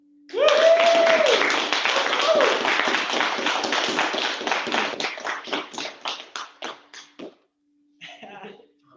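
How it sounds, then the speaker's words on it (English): Applause at a Zen Buddhist Shukke Tokudo novice priest ordination ceremony: a group claps loudly at first, then thins into scattered, slowing claps that die out, with a voice speaking briefly near the start and again at the end. "We can applaud."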